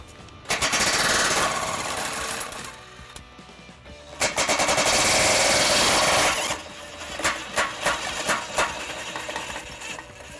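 A power tool works on bolts under a 2012 Dodge Grand Caravan: two long, loud, buzzing hammering bursts, then a string of short rattling pulses, close by and without speech.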